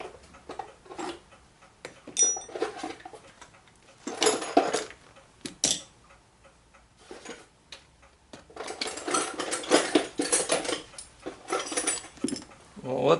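Metal tools clink and clatter in bursts beside a hand metal shaper as someone rummages for them, with quiet gaps between the clusters of rattling.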